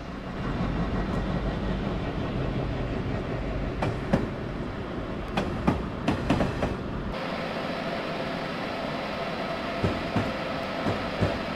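A commuter train rumbles into New Haven Union Station in Connecticut with a steady low roar, then repeated clanks and clacks of the carriages as it slows, with the rumble falling away near the end.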